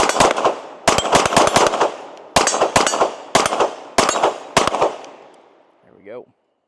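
Rapid strings of loud, close gunshots from a Glock pistol fed by Metgar 18-round magazines, fired in several quick bursts with brief pauses between them, the reports ringing out before falling silent, followed by a short faint voice at the end.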